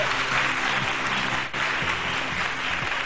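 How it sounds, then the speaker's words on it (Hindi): Dense, loud audience applause on the Pakistani TV morning show set, a continuous wash of many hands clapping close by, with faint music underneath. "बहुत सारी तालियां होनी चाहिए"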